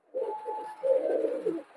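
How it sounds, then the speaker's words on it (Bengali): A male Nepali pigeon coos in two low, throaty rolling phrases, close and clear against a quiet background. "একটা নেপালি নর কবুতর দিছি"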